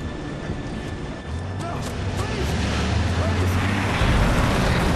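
A moving train in the video game Resistance 3 rumbles with a steady low-pitched roll and broadband clatter, growing slightly louder over five seconds, with no speech over it.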